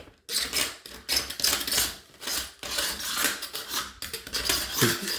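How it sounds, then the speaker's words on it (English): Harsh, broadband scraping of a sharp knife blade across oak trim, removing paint in repeated strokes with brief pauses, close and fairly loud, no talking. "some people probably don't like that scraping sound"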